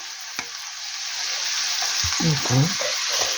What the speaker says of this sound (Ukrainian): щоб м'яско змішалося з моркою, все смажу